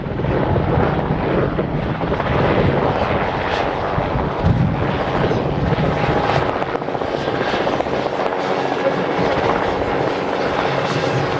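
A Sikorsky H-34 Choctaw (S-58) heavy-lift helicopter with a radial engine flies past, its loud, steady rotor thump and engine roar filling the whole stretch without letup.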